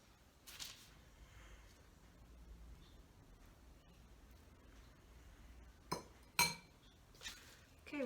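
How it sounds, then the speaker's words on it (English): Faint clinks and knocks of a bowl being shifted on a kitchen counter while cookie dough is prepared, a few brief sharp taps near the end over quiet room noise. "Move this bowl so you can see better."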